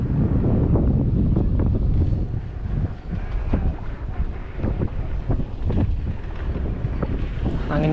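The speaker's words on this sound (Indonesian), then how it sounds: "Anginnya kencang banget ini." Strong wind buffets the microphone while fishing under a bridge, a steady loud rush with gusty rumbling throughout and no other clear sounds.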